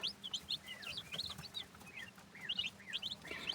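Young poultry chicks feed on seeds scattered over their bedding, peeping and cheeping constantly in quick, bright chirps at close range over a soft low rustle.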